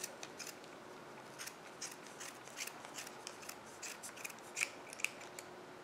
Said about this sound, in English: I just take my embroidery scissors and just take and cut down the center